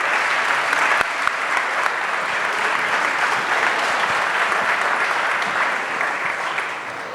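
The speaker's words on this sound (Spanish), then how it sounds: "voy a pedir un aplauso para todas las damas que están presentes" Audience applause at an international forum on city, commerce and tourism, honoring the women present; steady, dense clapping from a large crowd, loud throughout and fading slightly at the end.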